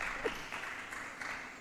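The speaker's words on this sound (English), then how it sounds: "Please give her a round of applause." An audience at a talk on the future of work gives a speaker a round of applause: soft, distant, steady clapping, brief and faint throughout.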